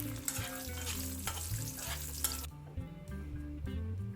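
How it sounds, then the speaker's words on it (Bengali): Paneer pieces fry in a kadai of overly hot oil, giving a loud, dense sizzle with stirring scrapes that abruptly softens partway through, leaving a quieter bubbling crackle. "আগে পনিরগুলোকে না একটু ভেজে নিব অল্প করে, কিন্তু কড়াইয়ের তেলটা একটু বেশি গরম হয়ে গেছে মনে হচ্ছে"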